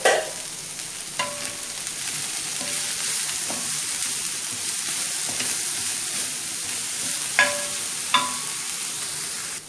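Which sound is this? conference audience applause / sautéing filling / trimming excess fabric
sautéing filling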